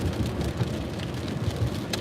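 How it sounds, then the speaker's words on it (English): Steady rain patters outside a car while driving, a dense even hiss of drops on the roof and windows with no voices. "I'm going to do the same thing since it's raining."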